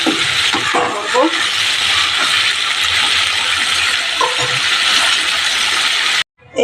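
Chicken being stir-fried in a pan, a steady close sizzle broken by scraping and clinking of a spatula against the metal, with no talk.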